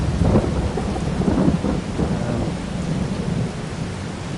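Steady rain with rumbling thunder in the Farming Simulator 22 farming game, a dense continuous downpour with low booming thunder swelling through the sound and no talking.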